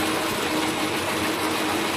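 A lathe spinning an Ametek 30 motor, a steady continuous whirring mechanical hum with fine rapid vibration, close and unchanging throughout.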